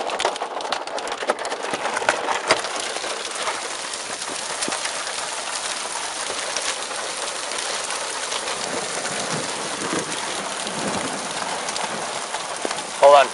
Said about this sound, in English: Pea-size hail in Londonderry, New Hampshire, right now.